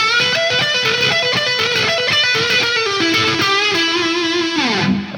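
Distorted electric guitar plays a pull-off phrase joined to a blues lick in a pentatonic style, loud and continuous with a bending descent near the end, then cutting off.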